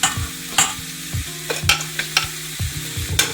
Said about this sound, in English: Ginger garlic paste sauteed down